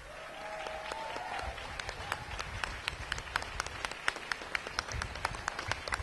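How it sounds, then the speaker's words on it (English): Crowd at an outdoor tax day rally applauds military veterans, scattered clapping that thins into a handful of distinct, close, sharp claps repeating unevenly, with a brief murmur of voices at the start. "give you a round of applause"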